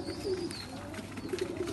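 Sialkoti pigeon of pure Batary stock cooing in low, soft repeated phrases at close range, with faint bird calls and background noise around it.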